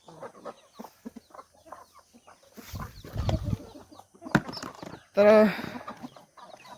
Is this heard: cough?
no